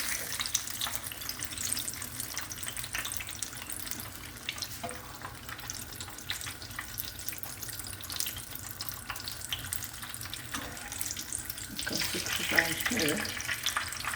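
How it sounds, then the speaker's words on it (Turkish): Zucchini fries in a pan with a steady, even sizzle and crackle that carries on throughout, heard close with occasional faint kitchen clinks. "Bu şekilde hepsini kızartıyoruz."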